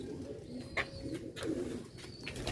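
Pigeons coo in low, soft bursts close by, with brief higher chirps over a steady background; the birds are Sialkot old-breed Chuha pigeons with green-bead eyes.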